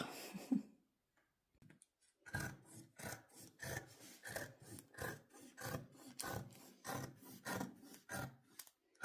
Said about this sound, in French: Je vais découper au ciseau, vu que je peux pas découper au cutter.